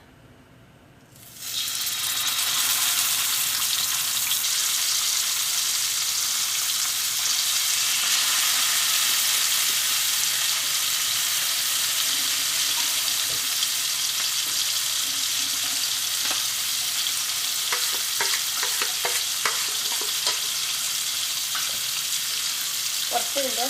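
Sardines drop into hot oil in a clay pot and burst into a loud, close, steady sizzle that holds for the rest of the time, with faint scraping and a few bubbling pops, no voices.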